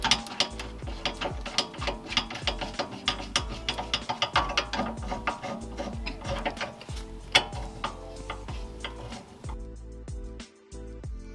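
A ratchet tightening the stock shock mount bolt and nut on a 1992 Ford Mustang during a QA1 double adjustable shock install, rapid close clicking strokes in repeated bursts with brief pauses between.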